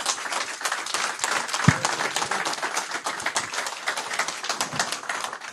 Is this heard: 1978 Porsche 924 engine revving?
no